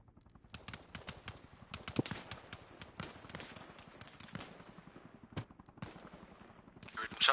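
Rapid video-game gunfire in a PVE military operation crackles in dense bursts of sharp single shots, steady and close, with a few louder cracks mixed in.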